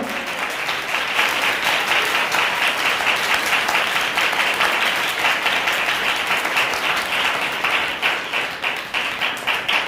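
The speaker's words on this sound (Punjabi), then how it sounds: "ਇੱਕ ਵਾਰ ਤਾੜੀਆਂ ਵਜਾਈਏ ਜ਼ੋਰਦਾਰ" A church congregation at a Sunday holy meeting claps together, a loud sustained burst of applause from many hands that holds steady for about ten seconds.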